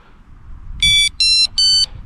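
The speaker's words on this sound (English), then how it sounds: "just turn on your bait alarm, and as you can hear with that" An electronic bait alarm for pike fishing gives three loud, close, high-pitched beeps in quick succession over a faint low background rumble.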